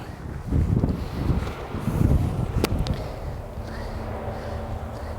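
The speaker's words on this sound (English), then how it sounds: "So much wind, the balls will hardly stay still on the mat here." Strong wind roars and buffets the microphone on a golf practice area, with low rumbling gusts and no talking.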